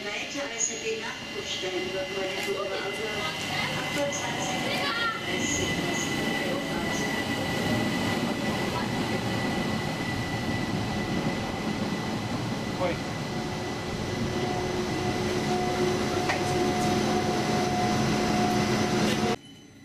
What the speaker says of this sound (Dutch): En vanuit Kufstein komt de trein die we zullen nemen richting Oberaudorf.